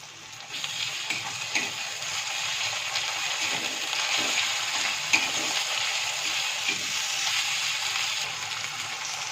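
Ginger and garlic paste frying with chopped tomato in a pan for ghugni, a steady close sizzle with occasional stirring scrapes throughout, no voices.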